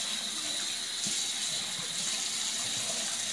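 Very hot water pours steadily from a tap into a sink, a continuous hissing rush of moderate loudness with small splashes, heard alone without any speech.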